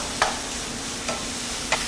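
Shiitake mushrooms stir-frying in garlic oil: a low, steady sizzle broken by three brief spatula scrapes spaced well apart, no voices.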